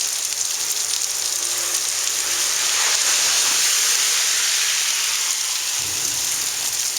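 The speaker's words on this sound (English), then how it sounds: "It's just raining now." Steady rain pours down in Dallas, Texas after a severe thunderstorm, a dense, even hiss that holds at constant loudness for the whole stretch with no voices over it.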